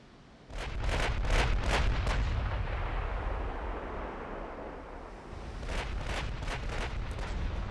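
Heavy naval gunfire from warships in the naval strategy game Ultimate Admiral Dreadnoughts, shells striking a light cruiser: dense salvos of deep booms and rumbling blasts rolling almost continuously, loud, with a brief lull before another burst of shots.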